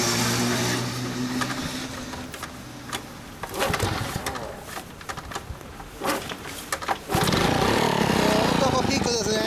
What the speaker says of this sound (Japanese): エンジンを、 はい、キックしてもらって。